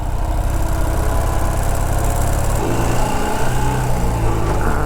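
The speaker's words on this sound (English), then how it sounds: "The bike seems to be running quite well again." A motorbike engine runs steadily on the road, a loud continuous droning rumble with wind noise throughout, the pitch shifting slightly midway.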